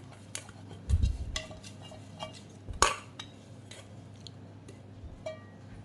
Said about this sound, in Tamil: இப்போ இதை ஒரு நெய் தடவின பாத்திரத்துக்கு மாற்றிக்கலாம்